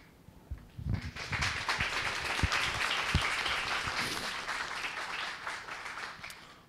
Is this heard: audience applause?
yes